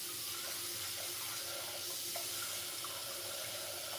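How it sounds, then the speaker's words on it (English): Tap water runs steadily into a pot of collard greens, a continuous rushing splash held at an even level throughout. "I'm going to add some more water to this."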